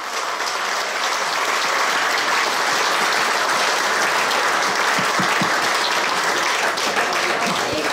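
An audience at a regional party members' gathering claps loudly and steadily, dense continuous applause throughout.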